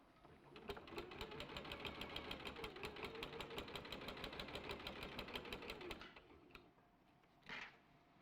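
A sewing machine runs steadily, stitching around a star shape on quilted fabric, its rapid needle clatter continuous for about six seconds before stopping, followed by a brief quiet handling sound.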